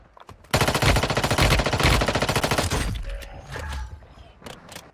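SMG fire in Warzone Mobile, a loud rapid automatic burst starting sharply and lasting about two and a half seconds, then fading into scattered quieter game sounds.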